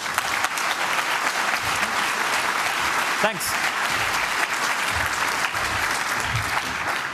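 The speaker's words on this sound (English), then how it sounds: "Warm round of applause." An audience applauds after a lightning talk at the 29C3 hacker conference, with dense, sustained clapping filling the room and a single brief spoken word near the middle.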